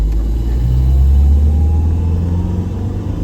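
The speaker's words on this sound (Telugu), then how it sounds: "ఇప్పుడు సెకండ్ గేర్లో పోతున్నా," Mahindra XUV500 W10 engine pulling in second gear on a high-speed run: a loud, steady, low droning rumble with engine note rising gradually, recorded close with no talk.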